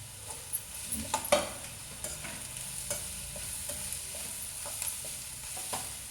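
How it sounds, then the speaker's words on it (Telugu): Green chilli pieces sizzling quietly in hot oil for a meal maker and raw tamarind curry, with repeated light scrapes and taps of a spoon stirring the pan over a faint constant hiss, no voices. "ఇప్పుడు పచ్చిమిర్చి ముక్కలు కూడా వేసేస్తున్నాను"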